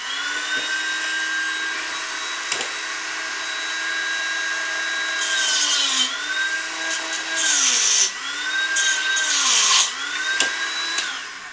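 Dremel rotary tool marking a hole position on a 1/10 scale Atlas model, a steady high whine with the pitch dipping and recovering repeatedly as it bites into the material, close and continuous.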